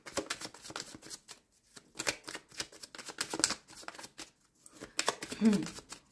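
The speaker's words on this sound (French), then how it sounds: "Ok, je vais tirer une carte sur l'indépendance." Tarot cards are shuffled and drawn close up, with soft riffling and flicking snaps in quick irregular bursts beneath a person speaking.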